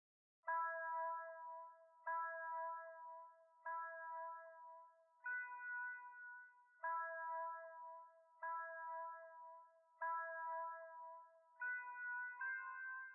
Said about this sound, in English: I had this dark guitar from El Hak again. I pitched it up one whole octave